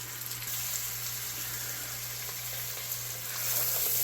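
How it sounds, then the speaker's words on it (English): Sausage frying in a pot for Tuscan soup (Zuppa Toscana), a steady close sizzle and crackle with a faint constant hum beneath, swelling slightly louder near the end; no talking. "cook this until the sausage is almost done"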